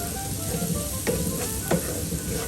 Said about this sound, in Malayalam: ഇതെല്ലാം കൂടെ നമുക്ക് നല്ലോണം ഒന്ന് മിക്സ് ചെയ്ത് ഒന്ന് വഴറ്റിയെടുക്കാം.